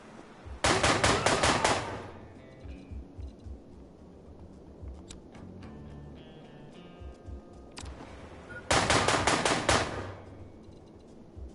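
Automatic gunfire in the John Wick Hex video game: two sharp, rapid bursts of shots, one early and one near the end, with quieter in-game clicks and ambience between them.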